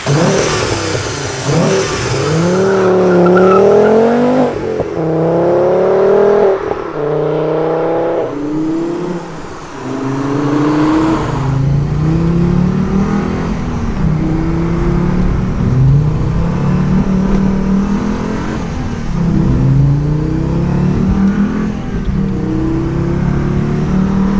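A five-cylinder engine swapped into a VW Golf GTI Mk2 revs hard and close, climbing and falling through repeated throttle blips with a raspy, rising pitch, then settling into rhythmic revving.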